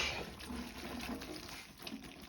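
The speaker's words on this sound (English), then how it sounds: "Give it a really quick rinse, not too much." Faint, steady running water while basil leaves are given a quick rinse in a home kitchen, a soft continuous trickle with light splashing, no talking.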